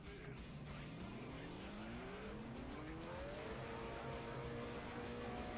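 A race car in the F1 Challenge video game, set in a 1950 season, drives a qualifying lap, its engine pitch sliding upward through the gears in a steady, loud whine with faint tire noise, continuous and without talk.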